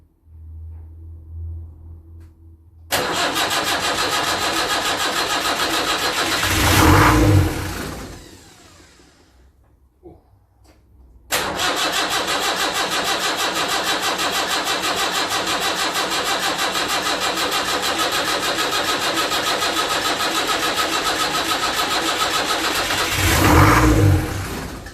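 Land Rover Series 3 2 1/4 diesel engine fires up for the first time. It cranks into a loud, steady clattering idle, revs up, then stops, restarts and idles again with another rev near the end.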